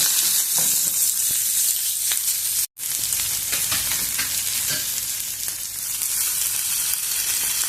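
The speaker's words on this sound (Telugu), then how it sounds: "పచ్చిమిర్చి, కరివేపాకు, ఉల్లిపాయలు ముక్కలు కొంచెం నూనెలో వేయించుకున్నాము" Green chillies, curry leaves and chopped onion pieces fry in hot oil with a loud, steady crackling sizzle that continues throughout, broken only by a momentary dropout, with faint stirring scrapes and no talking.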